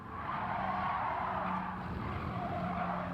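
Race car tires squealing and skidding under hard braking in Gran Turismo 7, a sustained loud screech over engine noise lasting the whole stretch, no voices.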